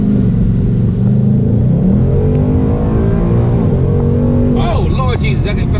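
A Ford Mustang GT 5.0 engine is pushed in a hard pull, a loud continuous roar that builds and rises in pitch close to the microphone, with a rumbling low end underneath throughout.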